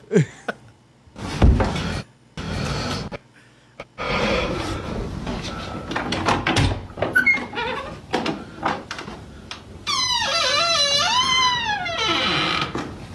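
A door creaks open with a long, wavering, high squeal near the end, loud and close, after a stretch of mixed thumps and noise.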